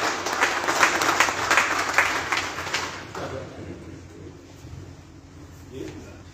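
Audience applause welcomes wrestler Aftab Jatt at a gathering: dense clapping for about three seconds, then fading to scattered claps and murmur as a voice begins over the crowd.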